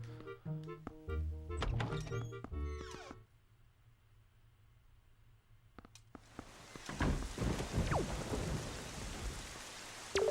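Rain and thunderstorm ambience in The Legend of Zelda: The Wind Waker, with game music at first, then a quieter stretch of steady rain before heavy rain and rumbling thunder swell up loudly.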